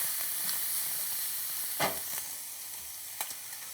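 Chopped onions and bacon frying in a pan for a pork schnitzel sauce, a steady moderate sizzle broken by a few sharp stirring scrapes and clinks, with no talking.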